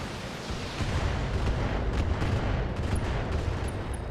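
A sustained barrage of long-range missile fire and impacts against a Thunderbolt mech in the BattleTech video game, a dense, rumbling roar of overlapping blasts that stays loud for several seconds with no one talking.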